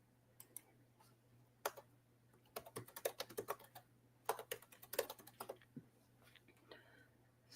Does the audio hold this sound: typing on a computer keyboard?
yes